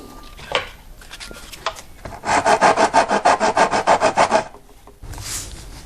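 Sandpaper rubs back and forth on the wood of a Black Horse Super Air RC plane under repair, a run of about a dozen quick, rhythmic rasping strokes, close and fairly loud, with a few softer scrapes before and after.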